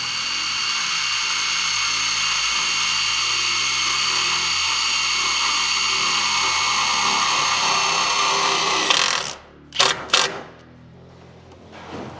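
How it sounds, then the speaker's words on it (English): A power drill driving self-tapping screws into a Toyota Tacoma truck frame during a coilover lift kit install: a loud, steady high whine for several seconds, then a stop and two short bursts as the screw seats. "go ahead and hit it with the self-tappers to put them into the frame"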